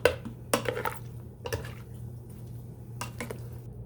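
Corned beef brisket and cabbage get a quick stir in a pressure cooker, a few soft utensil scrapes and clinks against the pot in short bursts over a low steady hum.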